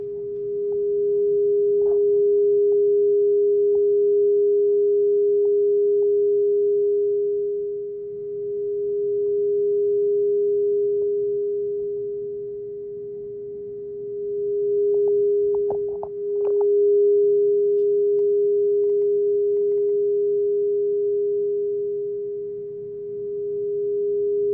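A steady 409-hertz sine test tone plays continuously and loudly for a room standing-wave demonstration, with faint clicks and small level swells along the way.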